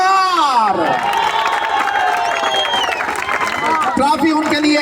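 Crowd at a village cricket tournament prize ceremony claps and cheers for a fast bowler, with an announcer's voice carrying over the noisy applause.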